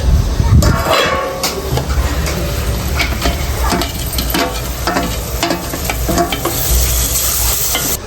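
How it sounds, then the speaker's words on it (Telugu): Onions with tomatoes and green chillies sizzle loudly in a pan as a spoon stirs and scrapes, close and continuous, with a dog barking faintly at one point. "ఉల్లిపాయలు మగ్గిపోయినాయని టమాటాలు పచ్చిమిరకాయలు వేసేస్తున్నాను"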